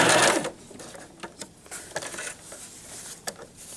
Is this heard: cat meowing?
no